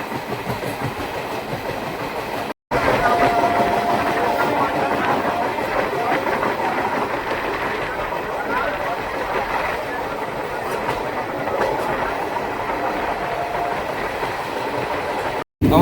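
A passenger train on the short Tinpahar–Rajmahal line in India rolls along steadily with continuous clickety-clack of wheels and a rumbling carriage, heard from on board and easing as it slows into a station; a brief gap interrupts the steady noise.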